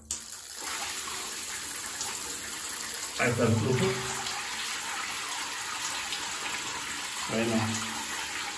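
Water gushes steadily from a cold-water shower head after a blocked gravity-fed supply is cleared, a continuous close hiss with someone speaking briefly over it.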